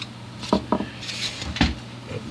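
A bass guitar truss rod being tightened, with a few close creaks and clicks, two quick ones followed by a single louder one, over faint background hiss.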